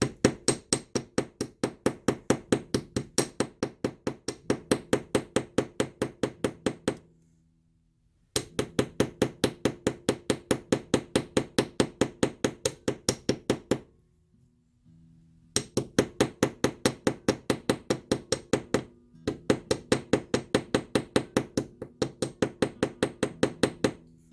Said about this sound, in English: the smaller the ball peen that you use, the more texturing you'll be able to get on your wire